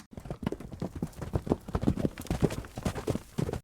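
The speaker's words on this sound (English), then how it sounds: "I've added our 2 horse running sound effects." Thick, overlapping hoofbeats from galloping horses pound continuously, a busy, muffled drumming with no pauses.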